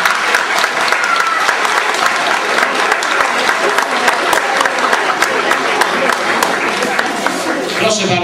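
Sustained applause from an audience at a children's music festival, dense steady clapping filling the whole stretch without pause, loud and close.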